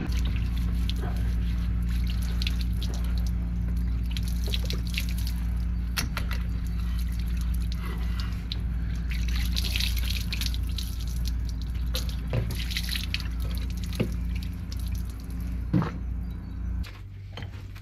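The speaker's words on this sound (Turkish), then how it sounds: "Bu yağı temizlemek için ise su kullanınız. Hidrolikleri su temizliyor." Water is poured and trickles while brake hydraulic fluid is washed off a Ford Transit during a brake pad change, a steady dripping and splashing over a constant low engine-like hum.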